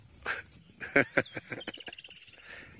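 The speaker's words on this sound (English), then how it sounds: "So now quite a lot of birds are back." Birds call in the thick African bush, with sharp chirps and a fast trilling series of notes at close range against a quiet backdrop.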